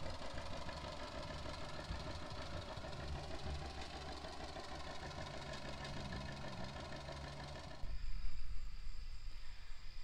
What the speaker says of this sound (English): Mr. John doesn't live far away, so here he comes on his tractor.